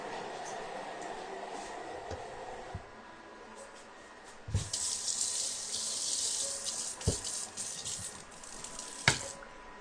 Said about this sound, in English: So 5 seconds on speed 5, and we have chopped up that onion, garlic, and that butter in there.